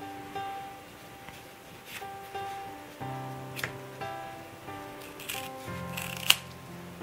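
A few close scissor snips and rustles amid soft, sustained musical tones playing in the background.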